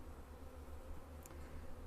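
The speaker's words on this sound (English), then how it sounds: "I reckon these bees will start fanning a little bit from the front" A honeybee swarm settled in a laundry basket hums as a faint, steady low drone, distant and quiet, with a brief higher buzz of a single bee passing near.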